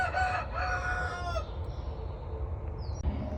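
Roosters crow nearby in a forest setting, with long drawn-out calls in the first second and a half followed by quieter clucking and background rustle.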